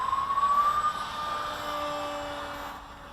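Electric motor of a small Firstar 200 RC model plane climbing in flight, a high thin whine that rises slightly in pitch, steady and moderately loud over outdoor air noise, then eases off toward the end.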